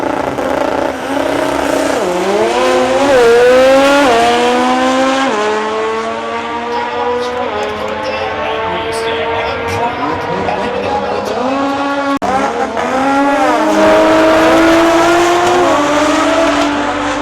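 Loud drag racing cars roar and rev continuously, pitch climbing through repeated gear shifts as they accelerate hard, with a crowd-like murmur underneath.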